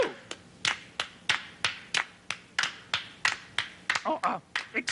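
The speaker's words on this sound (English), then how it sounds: "You clap too." Hands clap in a steady, evenly spaced rhythm of about a dozen sharp, close claps, joined near the end by a brief flurry of quicker claps.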